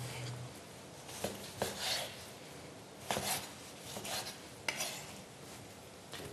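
Raw heart being sliced into medium pieces with a knife on a board, a few soft scraping chops and taps spaced irregularly, close and fairly quiet over low background noise.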